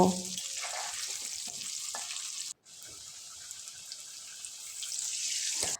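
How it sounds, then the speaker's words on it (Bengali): Potatoes frying in hot oil for a Bengali mutton curry, a steady broad hiss and sizzle running throughout with a brief break midway and faint clinks, no talking. "আমার আলু ভাজানো হয়ে গেছে তুলে নেব"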